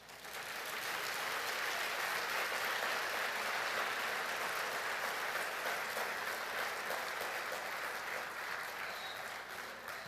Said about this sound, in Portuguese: Eu gostaria que você desse um aplauso a Jesus.